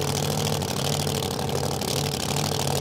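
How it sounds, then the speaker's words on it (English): Pro Mod drag racing car at a raceway idling roughly, as if missing on a cylinder, a loud, close, uneven low rumble that holds steady throughout. "Car sounds a bit strange. It's not quite idling the way I would have expected it to."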